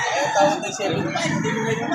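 Ten-month-old SBR gamecock rooster at a poultry market in Lipa City, Batangas, clucking and calling under nearby conversation, with loud crowd chatter throughout.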